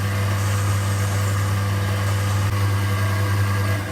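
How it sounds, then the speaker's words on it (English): An electric mixer blends fruity allspice cupcake batter with a loud, steady motor drone and a constant hum, running close and unbroken throughout. "Just turn the speed up slightly and I'll just let that blend away for 2 or 3"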